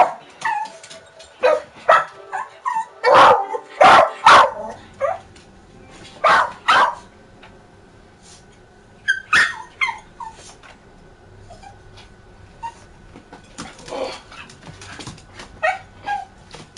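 A dog barks in loud, close bursts, with yips and whimpers between them, and a quieter stretch in the middle before more barks and whines near the end, heard outdoors.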